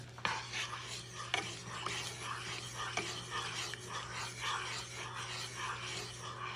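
Homemade BBQ sauce for Puerto Rican pork skewers being stirred with a utensil in a bowl or pot, a soft scraping and rubbing that repeats in uneven strokes, close and quiet over a steady low hum.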